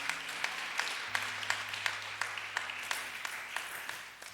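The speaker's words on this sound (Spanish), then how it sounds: "Dale un aplauso a Jesús si le vas a dar" Church congregation applauding during a sermon, a dense crowd of clapping hands with rhythmic stronger beats roughly every half second, steady and fairly loud, with a low organ or keyboard chord humming beneath.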